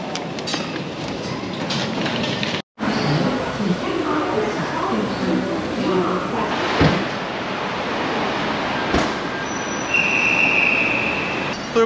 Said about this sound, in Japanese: 桃園 MRT に乗ると毎回思うんですけど、すごいよね、この席の感覚が。